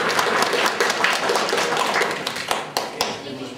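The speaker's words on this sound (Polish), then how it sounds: "I olbrzymie brawa dla pań." Audience applause for the winning ladies at a balcony flower-garden contest award ceremony, a steady patter of many hands clapping at moderate distance, with a few sharper claps standing out.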